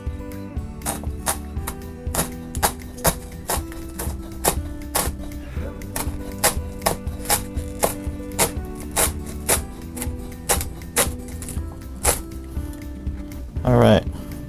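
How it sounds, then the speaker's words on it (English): A knife chopping green onions held together with rubber bands on a cutting board, steady rapid thuds in runs with brief pauses, close and crisp, with a short voice near the end. "Keep the rubber bands on it so it makes it easier to chop up"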